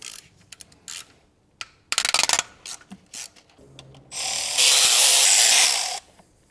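A ratchet loosens camshaft bearing caps on a BMW E46 330i engine, giving scattered clicks and short ratcheting bursts, then a longer, louder, sustained whirring run before it cuts off.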